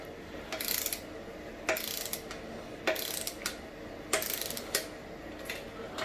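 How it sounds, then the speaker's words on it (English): Torque wrench tightening bolts to 17 foot-pounds while a K20 engine is prepped for install, a series of clicking ratchet strokes in quick bursts, close and fairly crisp over a low background. "I'm going to go ahead and torque it down to 17."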